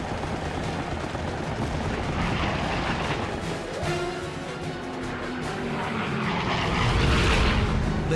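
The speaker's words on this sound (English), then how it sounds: "Below the pilot's fixed gun, bombardier Joe Sarnowski tracks another attacker. With a long burst, he sends a second plane spiraling to Earth" A WWII bomber's gunner fires bursts at attacking fighters over the Pacific, the rattling gunfire mixed with roaring aircraft engines in a dense, continuous battle din.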